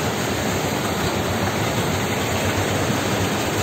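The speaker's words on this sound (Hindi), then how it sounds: "पानी देखिए स्लो स्लो निकल रहा है" Water released through the gates of the Arpa river dam in Bilaspur, Chhattisgarh, India: a loud, constant broadband rush of flowing, churning water filling the scene without break, with no voices heard.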